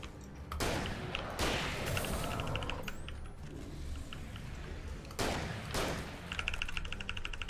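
Shotgun blasts ring out in the video game Alan Wake, several loud, sharp reports spaced a few seconds apart, each followed by a short ringing tail, with no talking.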